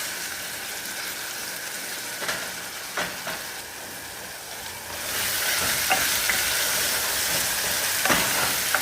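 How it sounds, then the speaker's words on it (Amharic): Onion frying in oil for a lenten chickpea-flour fish stew, with a steady broadband sizzle that swells louder partway through and a few scraping stirs of a utensil against the pan; no one speaks. "ዘይቱን ከሽንኩርት ጋር በደንብ አበስለዋለሁ።"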